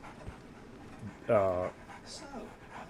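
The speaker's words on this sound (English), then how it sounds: "So, Barnes has a dog now." A dog in the video game Sherlock Holmes: The Awakened whimpers and pants softly, with one brief louder whine in the middle and faint breathy sounds around it.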